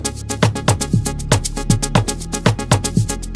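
A GMS synth preset in FL Studio plays a busy, bouncing pattern of plucky notes over a thumping kick, loud and steady throughout with no voices.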